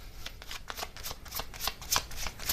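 Tarot message cards being shuffled by hand in a quick, continuous riffling flutter, close and clear, with no speech.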